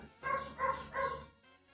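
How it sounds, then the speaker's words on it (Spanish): Three evenly spaced barks from a dog ring out, clear and fairly close, followed by a brief quiet tail with faint background tones. "Hay perros ladrando de fondo."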